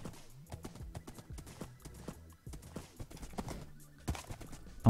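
Rhythmic clip-clop of horse hooves galloping steadily, close and clear, with a faint whinny in the mix and no talking.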